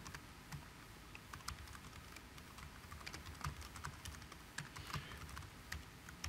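A computer keyboard clatters with quick irregular keystrokes as code is typed, faint and close, in uneven bursts with brief pauses and no talking.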